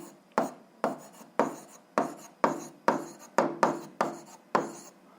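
Chalk or pen writing out a physics formula for an 8th-grade exercise, heard as a steady run of about ten short scraping strokes, close and fairly loud, with no talk.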